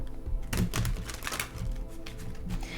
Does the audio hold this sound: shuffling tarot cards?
yes